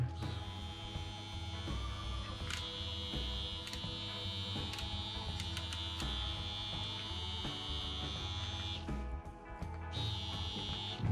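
An ITC ArtPen rotary tattoo machine runs at 8 volts, giving a steady close electric whir and buzz with a high whine, broken by brief clicks and a short dip near the end.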